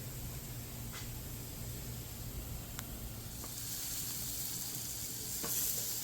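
Steaks sizzle on a scrap-metal welded BBQ grill outdoors, a soft continuous frying hiss with occasional faint ticks and pops, slightly rising near the end.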